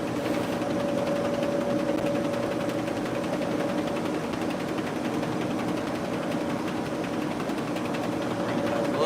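A film transfer dryer running with a steady mechanical whir and constant hum, continuously and evenly throughout, close by with no talking.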